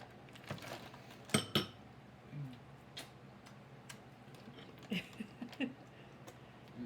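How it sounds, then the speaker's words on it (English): A metal spoon scrapes homemade ice cream out of a container with faint, scattered clicks and clinks. It is quiet and intermittent, with a few sharper taps against the tub. "You can scrape it out with a spoon if you want."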